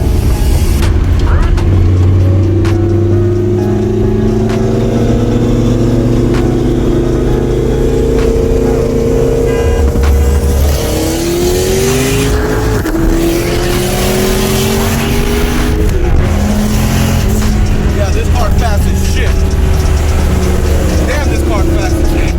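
A twin-turbo Dodge Viper SRT-10 accelerates hard in a race, its engine roaring loud and close with rising pitch sweeps through gear changes, joined by another car's engine, and a voice speaking over it.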